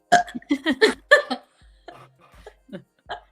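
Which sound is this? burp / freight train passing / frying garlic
burp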